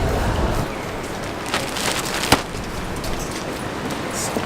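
Steady hiss of rain falling outdoors, a broadband wash with a faint patter throughout and one brief sharp tap near the middle; no voices.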